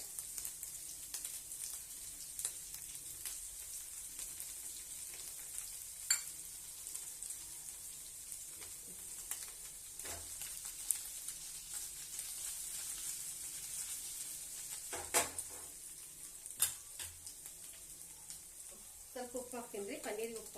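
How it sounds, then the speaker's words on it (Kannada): Vegetables for paneer rolls fry in a pan without butter, giving a steady close hiss and sizzle with occasional stirring knocks and scrapes throughout. "ಇದು ಫ್ರೈ ಮಾಡ್ಕೊಂತೀನಿ ಫಸ್ಟಿಗೆ"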